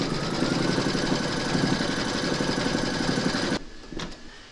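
An embroidery machine stitching an appliqué round on fabric in a hoop, a fast steady mechanical whir with rapid needle rhythm, close and loud, stopping abruptly near the end followed by a faint click.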